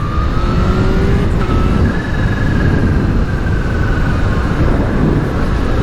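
Supercharged Kawasaki Z H2 motorcycle pulling hard under acceleration, a loud, steady engine roar with a rising whine, close and continuous for the whole stretch with no talk.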